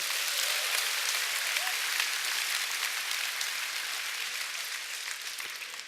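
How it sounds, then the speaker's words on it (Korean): Audience applause at a Korean motivational success seminar, a steady dense wash of many hands clapping from start to finish, fairly loud and even with a slight fade near the end, no voices. "오늘 그 한 사람은 바로 접니다 하시는 분은 본인에게 큰 박수 보내주시기 바랍니다."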